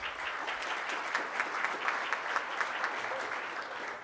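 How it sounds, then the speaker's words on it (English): An audience at a Rotary Club of Tulsa luncheon applauds the event's volunteers with steady, moderately loud clapping from many hands that fills the room and holds even throughout. "let's give them a round of applause"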